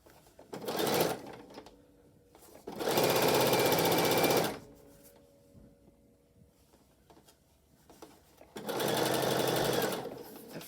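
Sewing machine stitching a fabric face mask in three close bursts of rapid whirring, separated by quiet pauses.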